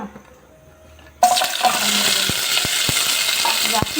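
Mangaraballi hits oil on a hot tawa after a quiet moment, setting off a loud sudden sizzle that continues steadily, with a few sharp clicks from stirring.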